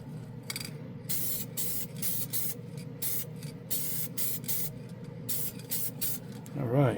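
Steady hiss of a Glidden Max-Flex aerosol spray paint can spraying silver paint onto plastic models in repeated bursts, broken by short pauses, close and fairly loud throughout.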